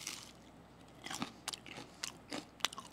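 Several crisp crunching bites into fried potato cutlets, a quiet, close run of sharp cracks and chewing over about three seconds.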